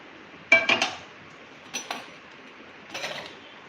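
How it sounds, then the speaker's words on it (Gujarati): A pan is picked up and set down in a home kitchen, giving a few close metallic clinks and clatters in short bursts separated by quiet pauses, with no talking. "હવે આપણે એક પેન લેશું."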